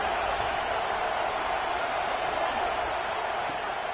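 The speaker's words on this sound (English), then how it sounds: "how nice is it to have the home crowd going absolutely bananas" A home crowd roars in an American football video game, a dense, unbroken wash of cheering that holds steady and loud from start to finish.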